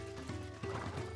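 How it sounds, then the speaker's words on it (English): A horse mount in the video game Final Fantasy XIV trots, giving a brief run of crisp hoof clip-clops in quick, even rhythm, close and fairly soft. "This horse is loud."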